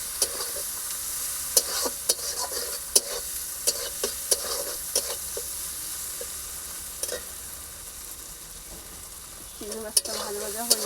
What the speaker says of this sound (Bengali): চিংড়ি মাছটা ভাজা ভাজা হয়ে যাবে